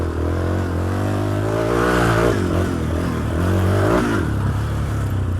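A Yamaha 350 Raptor quad's engine revs loud and close, holding a steady high-rpm drone that rises and falls in pitch as the throttle varies, with no talk over it.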